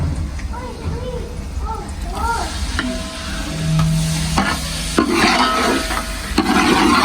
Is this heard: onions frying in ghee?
yes